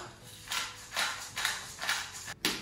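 A pepper grinder cracks fresh peppercorns over a Dijon mustard coleslaw dressing, making about five rhythmic, gritty grinding bursts close by with brief pauses between twists.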